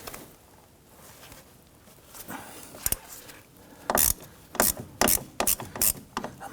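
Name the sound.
1/4 inch ratchet with 10mm deep socket on brake bolt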